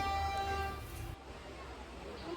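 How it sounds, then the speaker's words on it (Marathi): Vande Bharat express train passing close by, a loud steady rumble with a tonal hum in the first second that eases into a softer rolling roar as the cars go past. "माझी ड्रीम ट्रेन वंदे भारत इथून चाललेली आहे"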